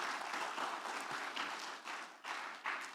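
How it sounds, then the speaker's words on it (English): Applause from a conference audience at a public health forum, a dense burst of many hands clapping fairly close, holding steady with a couple of brief dips over a few seconds. "So we can clap for them as well."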